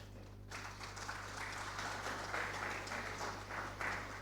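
Audience applause at a conference plenary session, starting abruptly and holding as a steady, dense wash of many hands clapping, with a low hum underneath.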